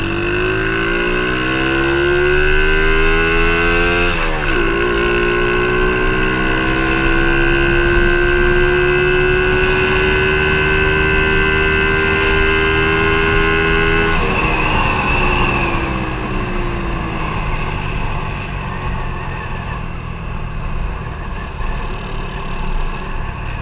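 A Yamaha Town Mate moped, fitted with a 51mm cylinder and an 80mm stroke, accelerates hard on a ride. The engine note climbs through the gears with clear shifts, and the engine stays loud and close throughout.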